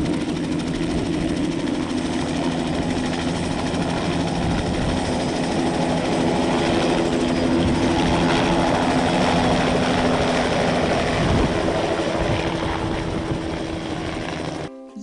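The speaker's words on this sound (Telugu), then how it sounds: "let's start our helicopter Joy ride" A helicopter carrying passengers on a joy ride over Hyderabad, its engine and rotor making a loud, steady drone heard from inside the cabin for the whole stretch, with no talking.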